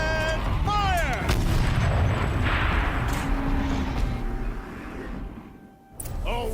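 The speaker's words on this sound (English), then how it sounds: "Rotate turret! And fire!" Heavy turret cannon fire in the video game Horizon Zero Dawn, a loud sustained barrage of booming blasts that fades near the end before a fresh burst, with sweeping mechanical whines early on.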